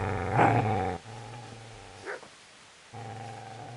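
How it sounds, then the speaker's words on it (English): A video game dog growls and snarls at the player in Kingdom Come: Deliverance, close and loud, a long rumbling growl that breaks off, flares briefly, then starts again. "Get away, you mutt!"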